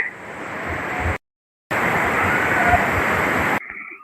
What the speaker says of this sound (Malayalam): എത്ര അടുത്തുനിന്നാ ഈ വെള്ളം വന്ന് പതിക്കുന്ന